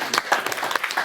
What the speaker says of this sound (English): kindly welcome Sir with a big round of applause